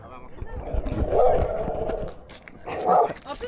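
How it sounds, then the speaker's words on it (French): A big dog barks twice in loud bursts near an RC car outing with a Traxxas Spartan SR, each bark standing out over ongoing background talk and outdoor noise. "Gros chien."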